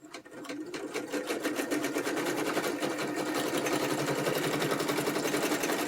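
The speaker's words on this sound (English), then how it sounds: "I'm just using a zigzag stitch" A sewing machine runs a zigzag stitch with a fast, steady mechanical whir and rapid needle clatter, close and continuous, with no one speaking.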